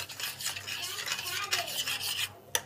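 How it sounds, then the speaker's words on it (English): A spoon scraping and stirring a thick quinoa flake and coconut milk porridge in a pot over low heat, with close, steady rasping strokes and a light clink near the end, with no talking. "So just keep stirring it"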